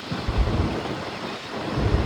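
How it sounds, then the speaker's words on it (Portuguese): Strong wind roaring through an Arizona sandstorm, a steady broadband rush with low gusting buffets against the microphone, continuous and loud with no voices. "Muito vento, vento forte pra caramba."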